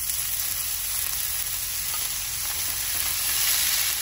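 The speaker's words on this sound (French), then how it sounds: "Donc on fait bien revenir l'oignon dans l'huile." Chopped onion fries in hot olive oil in a skillet, producing a loud, even, continuous sizzle with no one speaking over it.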